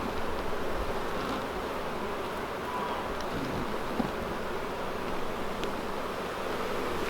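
Honeybees swarm around an open hive during a hive split, making a steady, dense drone that stays close and continuous throughout, with a little wind rumble underneath.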